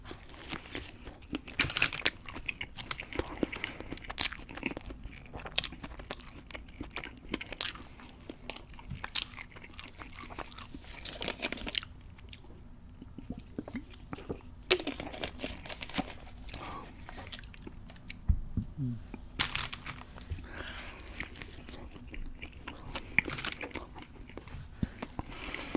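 Gas station chicken sandwiches are bitten and chewed up close, with soft crunches, wet mastication and occasional wrapper crinkles in an irregular rhythm over near silence.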